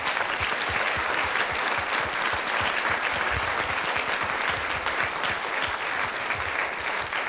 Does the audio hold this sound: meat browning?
no